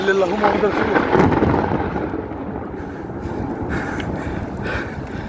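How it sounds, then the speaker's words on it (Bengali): Heavy rain falls outdoors during a storm while someone is out on a construction job. A deep, rolling roar like thunder is loudest at first, then fades to a steady, broad rush of rain and wind. "প্রচুর বৃষ্টি হচ্ছে বাইরে"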